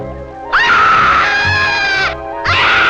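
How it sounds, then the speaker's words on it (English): Loud, sustained high-pitched human screaming from a drug PSA film, one long scream followed by the start of another after a brief pause. "the rest of this PSA is just screaming"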